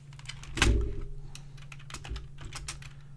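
Rapid, uneven typing on a computer keyboard, close by, with scattered clicks and a louder thump of a keystroke near the start, and no talking.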